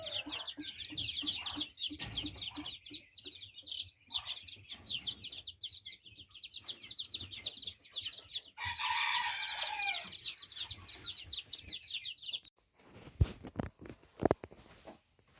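A flock of chickens clucks and chatters continuously near a feeder, with feed scattered underfoot. Busy overlapping calls carry throughout, briefly swelling louder, followed by a few scratching knocks at the end.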